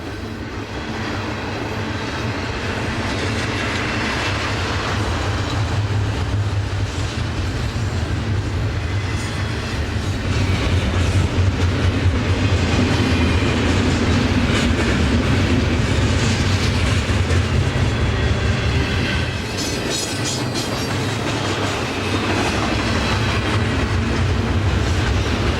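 A long BNSF freight train loaded with Yang Ming shipping containers rolls through Cajon Pass, a loud continuous rumble of wheels and cars with rhythmic clickety-clack and occasional metallic squeals, running steadily throughout.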